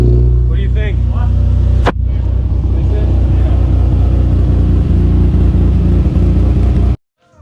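A Nissan 350Z fitted with a new downpipe rumbles loudly and steadily at close range with a deep, sustained engine drone, a sharp transient near two seconds, then cutting off abruptly near the end.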